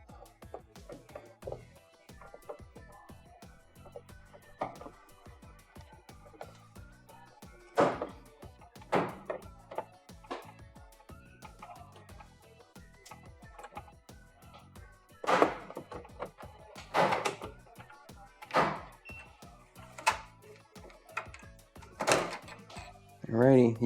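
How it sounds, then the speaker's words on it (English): Plastic door trim being pried off a Samsung microwave door that will not latch, giving scattered clicks, pops and snaps close up, some sharp and loud, with a person talking throughout. "you will hear a bunch of different clicks and pops as you begin to remove this part"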